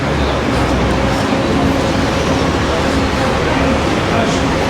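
Busy Sydney street traffic on a winter day, with buses and cars passing in a dense, steady roadway roar that stays loud and close for the whole stretch, a voice speaking over it.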